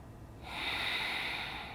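A full breath drawn during a morning exercise and stretching session, rising into a steady, airy rush that holds close and soft with no speech.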